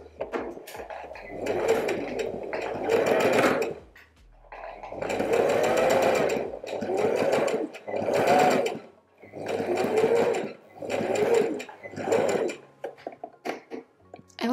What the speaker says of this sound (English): this way, I am sure of stability when sewing on the machine